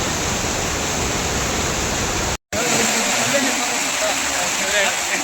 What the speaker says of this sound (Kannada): ನಿಪ್ಪಳಿ ಫಾಲ್ಸ್ ಯಾವ ರೀತಿ ಇದೆ ಅನ್ನೋದು ಮಸ್ತ್ ಆಗಿದೆ